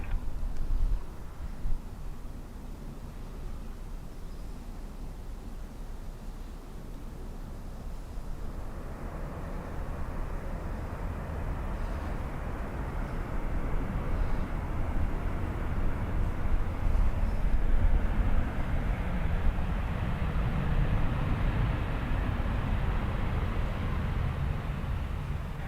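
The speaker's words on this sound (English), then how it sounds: "What you're hearing in the background there is that cruiser now directly overhead" An airliner passes directly overhead at Dublin Airport, its broad jet roar swelling from a distant rumble to a loud, sustained wash of engine noise.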